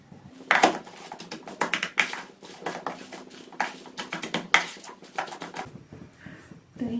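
Cabbage, onion, salt, turmeric and curry leaves mixed together by hand in a bowl, giving quick irregular crunchy rustling and patter, close and fairly quiet.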